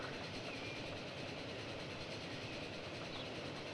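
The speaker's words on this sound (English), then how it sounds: "oh, we've got a train coming. Let's ride it. Okay, so we're riding the train." Train riding along rails in the game Transport Fever 2, a steady, continuous rumble of wheels on track that holds constant throughout, with no talk over it.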